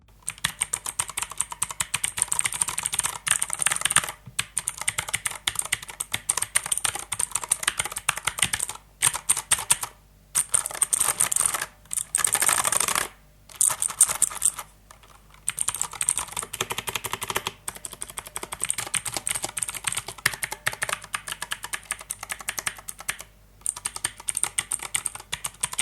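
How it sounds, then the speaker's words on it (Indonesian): Rapid, continuous clicky typing on a Gamen Titan II mechanical keyboard with blue switches, crisp loud keystrokes in dense bursts with brief pauses, close and alone. "kita nggak tes suaranya ya, ciri khas si mechanical ini seperti apa"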